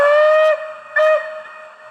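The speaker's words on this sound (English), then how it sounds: "Function 4 is a right-away whistle." Two long steam-style whistle blasts from an OO gauge Hornby BR blue Merchant Navy model locomotive's sound decoder, the right-away whistle, each blast steady and loud, separated by a brief gap.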